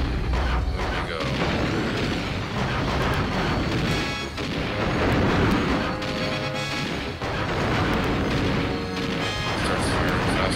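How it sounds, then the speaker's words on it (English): Repeated fireballs launched at a boss in Donkey Kong 64, a loud, dense run of booming impacts and crashes layered over game music and effects, with no pause. "Let's fire some more fireballs at him."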